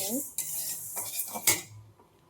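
Lentils for a vegetable khichdi are stirred in a metal pot, with a few close scraping and clinking strokes of a utensil against the pot over a faint sizzle, fading to quiet at the end.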